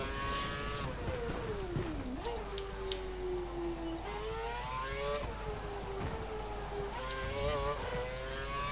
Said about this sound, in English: Watch out for cars exiting the pits.